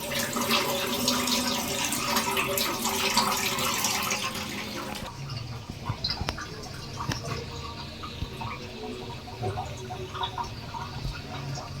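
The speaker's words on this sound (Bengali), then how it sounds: "এবার চাউলটা থেকে পানি ঝরাই নেবে।" Water runs and splashes out of soaked rice held in a draining container, a steady pouring stream for several seconds that thins to scattered drips and small splashes.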